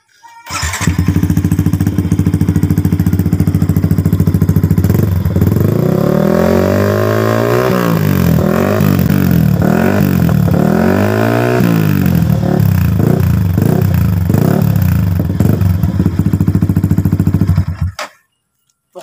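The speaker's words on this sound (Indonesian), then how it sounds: "Ini dipakein knalpot WRX K1 Triopal." A Yamaha R15 v3 motorcycle fitted with a WRX K1 Trioval exhaust idles loud and close, then revs in several sharp rising and falling bursts before cutting off, with no talking.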